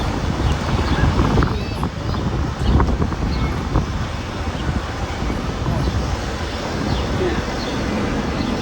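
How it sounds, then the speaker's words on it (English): Gusty wind roars outdoors, buffeting the microphone with continuous low rumble and broadband noise throughout, strong enough to knock over a tripod. "Kind of windy today, so the tripod just got blown over."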